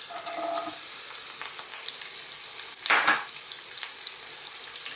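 Onion frying in a pan for an Indian lamb chilli fry, giving a steady close sizzle with soft stirring scrapes and a brief louder burst near the middle, no talking.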